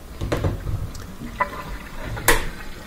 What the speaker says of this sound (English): Listening to the water flowing through this thing, which is called the air gap.